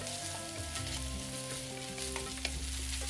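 Onion frying in a pan with ginger, green chilli and curry leaves for a Kerala mango curry, giving a soft, steady sizzle close by with faint stirring and an occasional light clink, and no voices.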